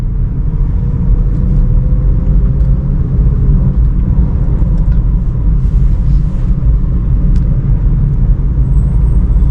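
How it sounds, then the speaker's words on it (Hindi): Car engine accelerating through slow city traffic before a shift into second gear, a steady close low rumble that runs the whole time with no talk over it. "20 की स्पीड आ गई, सेकेंड गियर पे शिफ्ट हो जाएंगे।"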